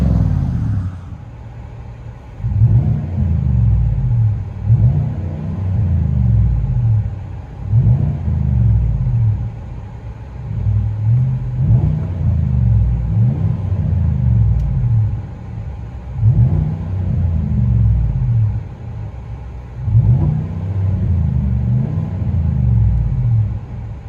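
Inside the cab of a 2021 GMC Sierra 3500 HD pickup with a 6.6-litre gas V8 and a Vibrant Street Power muffler, a deep, steady exhaust drone swells and eases in regular waves as the truck cruises, loud and close, with no talking.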